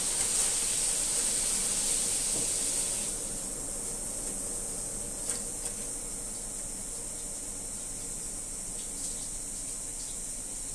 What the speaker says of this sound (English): A lot of air in the lines.